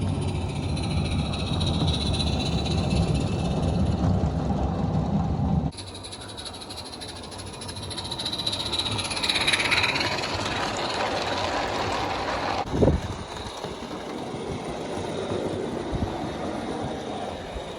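An Accucraft Sabrina radio-controlled model steam locomotive runs on an outdoor deck layout, climbing a 2% grade in cold weather, giving a steady low rumbling chuff with a sharp clank near the end, moderately close.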